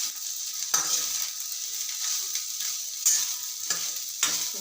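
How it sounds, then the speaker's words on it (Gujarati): Khichdi being stirred and fried in a pan to make a snack, giving a steady close sizzle with a few sharp scrapes of the spoon against the pan. "બધી ખીચડી એડ કરી દઈશું. અને બરોબર મિક્સ કરી દઈશું."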